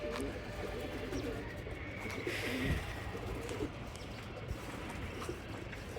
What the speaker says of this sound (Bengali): এটা আমার কাছে যে পাকিস্তানি টেডি কবুতরের মতন লাগে